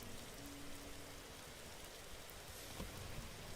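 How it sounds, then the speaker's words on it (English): Steady rain at night around a bus in a driving video game, a faint, even patter that holds throughout with no other sounds above it. "A rainy night in Croydon today."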